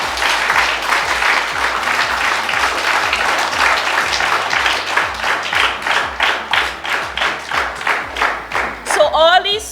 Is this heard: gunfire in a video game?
no